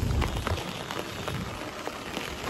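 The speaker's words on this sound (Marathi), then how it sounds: "आता चाललंय बघा पाऊस चालू आहे" Morning rain falls steadily in an Indian village street, a soft continuous patter of drops on surfaces, fairly quiet, with no talking.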